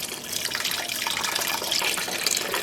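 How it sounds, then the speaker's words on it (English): Water from a kettle, a little over a liter and partly warm, pours into a dye pot, a steady close gushing splash that runs for a few seconds with no talking. "I think what I want to do is add more water"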